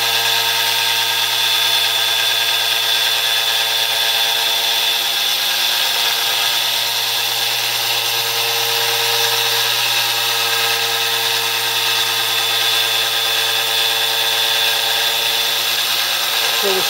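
A small RC electric motor spins steadily at about 6900 RPM on a 36-volt supply, giving a constant, loud whine with many steady harmonic tones and no break across the whole stretch.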